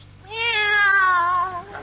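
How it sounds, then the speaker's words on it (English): A single drawn-out cat meow rises and falls clearly over a quiet background in an old 1954 radio comedy broadcast. "Take our cat Minerva"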